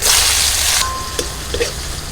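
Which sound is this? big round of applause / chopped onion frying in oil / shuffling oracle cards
chopped onion frying in oil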